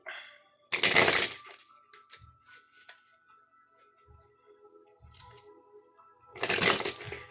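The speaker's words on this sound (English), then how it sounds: "Sorry for shuffling forever." A deck of tarot cards is shuffled in two loud bursts of riffling near the start and the end, with faint clicks and card handling in the quieter stretch between.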